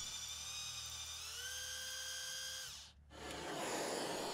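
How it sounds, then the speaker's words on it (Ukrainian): A high-pitched drill whines steadily for nearly three seconds, dips in pitch, cuts out briefly, then a noisy grinding burst follows as the bit bites into brass, drilling holes for fishing lures. "Свердлимо три отвори."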